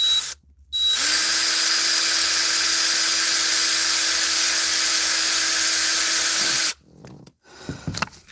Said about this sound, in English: Well, at least the drill works.